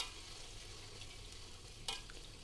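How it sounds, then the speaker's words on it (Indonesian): Large potato pieces fry in oil, giving a steady low hiss and sizzle with a light stirring scrape partway through and no talking. "Ini kita akan goreng sampai berkulit ya."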